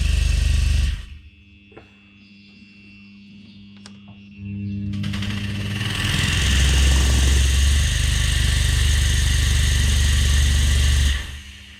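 A homemade turbo jet boat engine rumbles at a low idle, then roars up loudly and holds a steady, heavy drone before cutting off abruptly.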